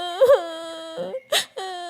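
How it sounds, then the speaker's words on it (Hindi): A cartoon child cries in short wailing sobs, a high, close voice rising and falling in several bursts with brief gaps between them. "उसके कानों में बच्चे के रोने की आवाजें आ रही थीं।"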